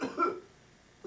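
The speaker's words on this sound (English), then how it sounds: "please pardon my cough" A single cough from a puppet show performer, short and close, followed by a brief pause before a voice resumes.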